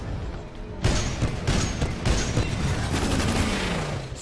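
A titan's missile salvo in Titanfall 2 launches after a short lull as a rapid volley of sharp, loud blasts. The bursts crackle on in a fast, uneven series of impacts with no talk over them.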